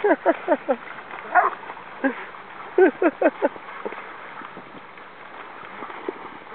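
A dog gives a series of short, quick barks and yips in bursts, close by, with pauses between, while trying to get a worm.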